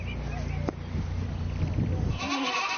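Goats on a green farm bleat in short, wavering calls, the clearest near the end, while a voice keeps talking over much of the scene.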